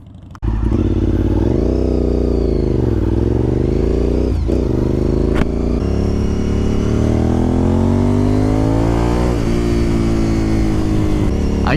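A Honda RC51 sport motorcycle engine revs up and down repeatedly, its loud, close roar rising and falling in pitch through several throttle blips with a mechanical clatter underneath.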